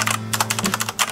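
Typing on an Aula F2088 membrane keyboard: a quick run of soft, muffled keystrokes, close and distinct, a short pause then more taps, over a faint steady hum.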